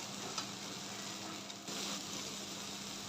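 Sliced okra sizzles steadily in a pan over a medium gas flame, a soft, continuous crackle with a faint hum beneath and no voices.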